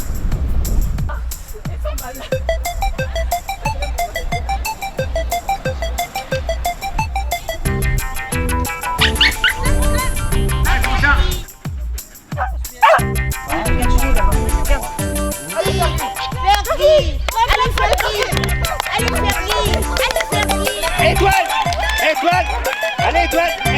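Jack Russell terriers bark and yip during a recall race, with short sharp barks scattered among loud crowd noise and voices calling through the whole stretch.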